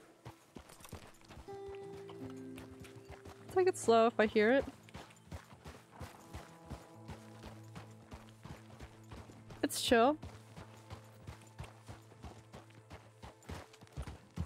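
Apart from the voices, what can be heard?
horse hooves in video game Red Dead Redemption 2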